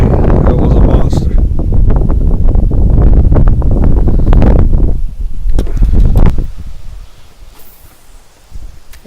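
Strong wind, around 20 mph, buffets the microphone while kayak fishing, a loud continuous rumbling roar with rustling that eases off toward the end.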